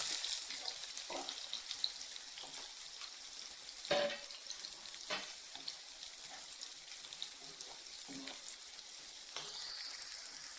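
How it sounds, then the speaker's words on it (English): Aubergines fry in oil with a soft, continuous sizzle, broken by occasional sharper knocks and clinks of a utensil against the pan. "I'm also giving these a run in the oil so that they become tender and easy to cook."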